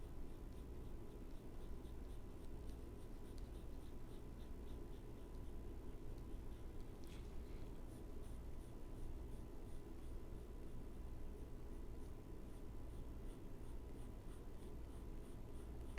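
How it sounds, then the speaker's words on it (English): Steady, quiet scratching of a graphite pencil shading an apple drawing on paper, continuous soft strokes close to the mic against faint background hiss, with no talking. "my pencil is doing the work. It's shaping the apple."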